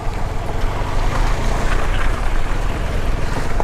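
A vintage car with no electronics runs on a raw engine, its steady loud rumble mixed with wind and road noise from start to finish while on the move, with no talking.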